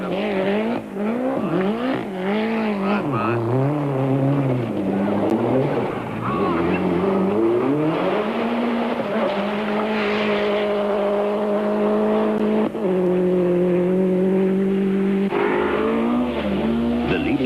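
A rally car on a 1992 Algoa Rally stage, its engine revving hard and rising and falling in pitch as it accelerates and shifts, loud and close throughout, with some tire noise and someone commentator's voice over the top.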